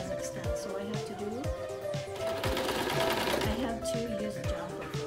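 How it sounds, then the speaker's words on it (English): A Kazakh-made sewing machine runs steadily while stitching fleece pillowcases, its rapid mechanical clatter continuing throughout with brief changes in pace, close and moderately loud. "This is my third sewing machine."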